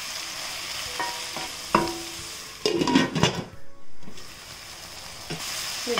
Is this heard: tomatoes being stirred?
yes